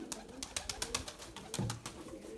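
Pigeons in a loft, a rapid series of soft close wing flaps and fluttering with a low coo, fairly faint and without talk.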